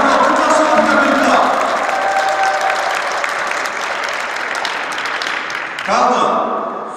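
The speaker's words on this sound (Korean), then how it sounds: "자, 다시 한번 큰 박수 부탁드립니다." An audience at an alumni association chairman's inauguration ceremony claps in a dense, sustained burst that fades slightly, then swells again near the end.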